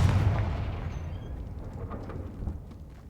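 A Confringo fire spell blasts in Hogwarts Legacy as a loud, deep booming explosion that rolls out and fades over a few seconds, with faint rumbling debris afterward.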